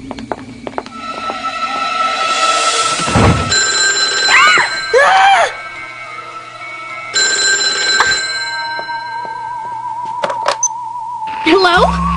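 A cell phone rings indoors in a cartoon house, with repeated electronic ringtone bursts sounding through lively talk and other effects.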